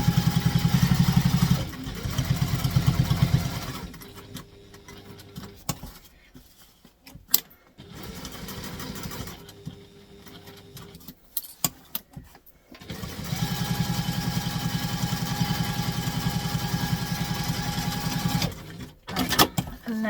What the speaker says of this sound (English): So making sure this is lined up with the edge, stitching along.